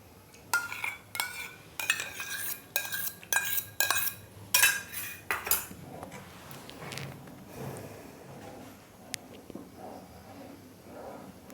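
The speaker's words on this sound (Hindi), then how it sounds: "इसको थोड़ा थोड़ा करके डालते रहेंगे और लगातार चलाते रहेंगे" A spoon stirs custard-powder milk in a pan on the stove, clinking and scraping against the metal in quick rhythmic bursts before settling into a quieter simmer with a few faint taps.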